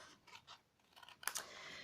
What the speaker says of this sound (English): you need to be able to cut cleanly with that tip